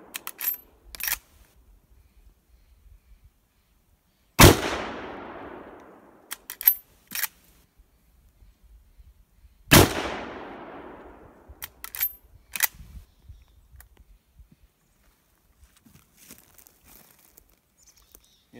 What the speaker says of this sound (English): Do a little shooting here. You can get your follow-up shot.